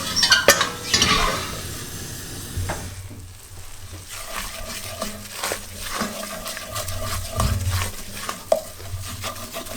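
A mixture for traditional Dibra-style Albanian pache sizzles in a frying pan over the fire while being stirred, with close scraping strokes, utensil clatter and a steady frying hiss throughout.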